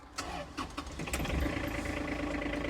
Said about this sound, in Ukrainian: Заводиться трактор з півоберту.